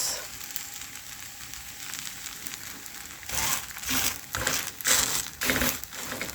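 Spring onion and carrot pancakes fry in hot oil with a steady crackling sizzle, which grows louder and more broken up as the pancakes are pressed and shifted in the pan.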